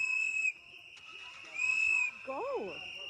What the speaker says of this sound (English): What are the whistles for? That's warning them that ICE is around.